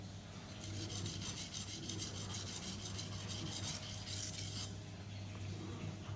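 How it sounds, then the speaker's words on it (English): A chef knife tip is ground on a Naniwa 320-grit sharpening stone, a steady close rasping scrape of steel on stone in rapid back-and-forth strokes that stops near the end, over a low constant hum. "your knife tip is perpendicular, flat on the stone. That is how you grind your tip."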